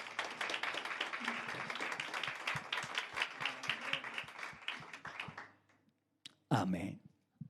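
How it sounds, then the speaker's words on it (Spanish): A church congregation bursts into dense, lively applause for about five seconds, then the clapping stops and a brief voice follows. "vamos a darle un aplauso al Señor Jesucristo"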